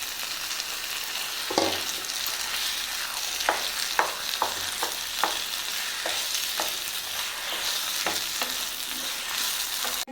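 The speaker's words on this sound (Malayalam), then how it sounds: "നമുക്കിനി ഇതിലേക്ക് ഉരുളക്കിഴങ്ങ് ഉടച്ചത് ചേർത്ത് കൊടുക്കാം." Mashed potato being stirred into onions frying with turmeric and salt for a masala dosa filling, a steady sizzle with scattered scraping clicks of the spoon against the pan, close and continuous.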